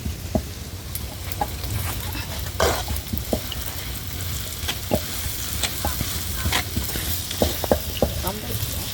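Onions and five slit green chillies sauté in a pan, a steady close sizzle punctuated by frequent sharp spoon taps and scrapes against the metal throughout.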